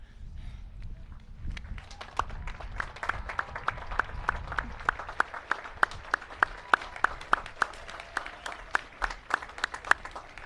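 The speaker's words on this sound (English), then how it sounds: "Class of 2017, please take a moment to stand with me and face your friends and family with applause" Families at a high school graduation ceremony applaud the class, sharp individual claps forming a steady, even rhythm over a soft background murmur.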